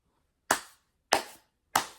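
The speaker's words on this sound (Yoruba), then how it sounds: "Ó pàtẹ́wọ́ pòpòpò." Three sharp, loud hand claps sound one after another with pauses between them, each snapping cleanly out of silence and dying away quickly, with no voices around them.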